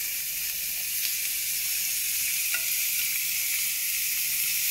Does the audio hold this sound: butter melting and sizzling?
yes